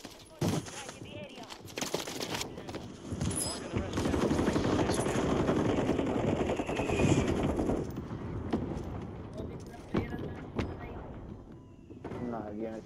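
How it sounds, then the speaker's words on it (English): Warzone gunfire on Rebirth Island, with a pistol tap-firing from high above amid rapid bursts and scattered sharp shots layered over a dense, sustained firefight, while a player talks over the action. "Dude just fucking tab firing with a pistol from all the way up top"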